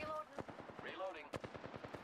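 Rapid automatic gunfire in the shooter video game Apex Legends, a quick series of sharp shots crackling over in-game sounds during a brief, quiet firefight.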